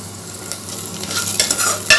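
Green chillies sauté with onions in a pan for chickpea biryani, with a soft sizzle and a few quick stirring scrapes building toward the end. It is close and brief, with no talk.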